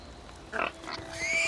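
Pigs in the fantasy role-playing game Divinity Original Sin 2 grunt and oink in a few short bursts, fairly close, over a steady background tone and a rising synthetic whine.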